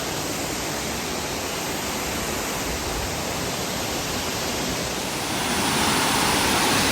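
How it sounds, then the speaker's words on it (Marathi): A waterfall right beside a temple roars as a dense, continuous rush of falling water, loud and close throughout, swelling slightly toward the end with no voices. "तर मंदिराला लागूनच अगदी हा धबधबा आहे"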